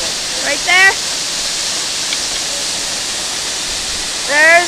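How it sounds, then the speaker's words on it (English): A roaring 150 ft waterfall at Scag Falls fills the scene with loud, constant rushing water, while a person's voice briefly speaks over it near the start and again at the end. "There's the whole entire waterfall."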